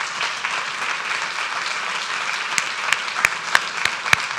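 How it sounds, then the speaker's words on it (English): Audience at a city council meeting applauding steadily, a dense patter of claps with a few sharper nearby claps standing out toward the end. "Give them a round of applause, please."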